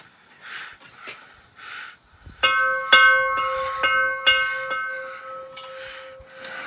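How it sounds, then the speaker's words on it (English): An old bell from a grandparents' house is rung several times in quick succession, each strike a bright, clanging metallic tone that rings on and overlaps the next, loud and close. "That bell there is from my grandparents' house."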